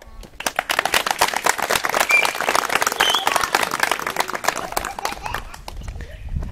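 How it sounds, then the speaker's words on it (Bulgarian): Dense, continuous clapping from a large crowd at a national Mazda car meet, loud and sustained throughout, tapering slightly near the end. "Да чуя вашите аплодисменти"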